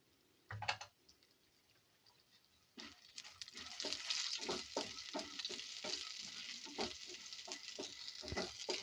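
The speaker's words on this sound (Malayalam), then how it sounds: "അതിലേക്ക് ഉഴുന്നും കടലപ്പരിപ്പും ഇട്ട് കൊടുക്കാം" Urad dal and chana dal drop into hot coconut oil with popped mustard seeds for a masala dosa tempering: a thump, a brief pause, then a rising sizzle with quick repeated stirring scrapes, close and steady.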